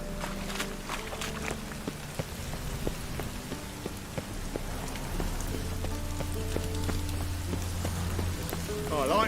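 Steady rain falling in the video game The Witcher 3, a continuous close patter of drops on surfaces with faint low rumbles underneath, alone without talk.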